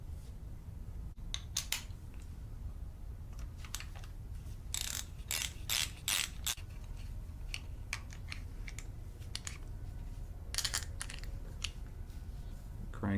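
Ratchet work on the timing cover bolts of a GM 3800 Series II V6 engine during disassembly, giving quiet intermittent clicking bursts and short metallic rattles over a low steady background hum.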